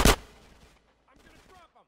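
A single sharp gunshot blasts up close in GTA San Andreas Definitive Edition, followed by a quieter stretch of faint scattered game sounds.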